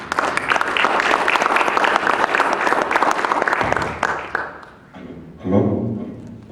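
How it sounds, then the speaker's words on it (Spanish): A seated audience gives loud, warm applause at the start of a training session on occupational hygiene and organizational recruitment, dense clapping that fades out after about four seconds, followed by a few thumps and a microphone being handled. "recibámoslo con fuertes y calurosos aplausos"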